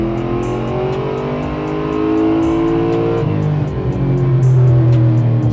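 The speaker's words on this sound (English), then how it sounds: "So let's go ahead and do a full throttle pull." A Chevrolet Impala with an LSX 454 engine on a dyno makes a full-throttle pull, a loud, steady engine roar that climbs continuously in pitch and stays close throughout.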